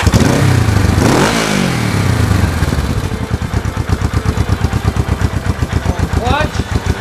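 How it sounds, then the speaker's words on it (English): A Honda 450/350 twin motorcycle with a high idle problem is started nearby. It cranks and catches with a rising rev, then settles into a loud, even, rapidly pulsing idle, with a brief blip near the end. "Now let's fire up the bike to make sure the problem's gone."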